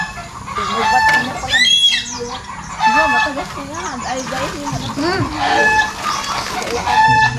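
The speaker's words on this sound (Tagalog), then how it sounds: "Manok." Chickens cluck and squawk continuously nearby, with overlapping bird calls and a busy farmyard background throughout.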